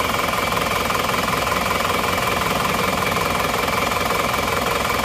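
A car engine with a badly damaged, overheated piston runs at a steady idle, close and loud, with a rapid, even knocking pulse throughout and no talk.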